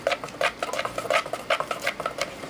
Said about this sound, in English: Just stir it up real good.